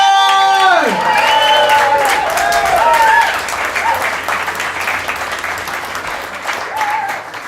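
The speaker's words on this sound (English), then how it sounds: "Let's get a massive round of applause going." Applause and cheering from a comedy club audience at a hotel comedy final, loud and dense at first, with whistles and whoops on top, then easing slightly but continuing steadily to the end.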